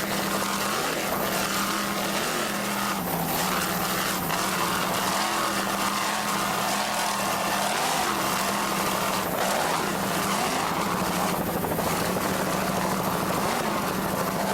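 A 32-foot Hustler racing powerboat, Sudden Impact, roars at sustained throttle with a loud, steady engine drone and rough broadband rumble running unbroken throughout.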